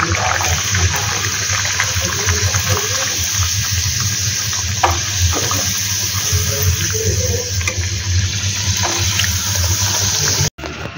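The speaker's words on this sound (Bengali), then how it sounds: "লুচি ভাজা হচ্ছে" Luchi fry in hot oil for a Sunday breakfast, giving a steady, dense sizzle that stays loud and even throughout with no pauses and ends in a brief cut.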